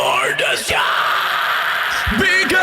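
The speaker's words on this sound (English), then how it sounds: "that scream just extends out from that bloom reverb there" A loud, harsh sustained scream from a metal vocal track trailing into a long, washy bloom reverb tail, with brief vocal bursts near the end.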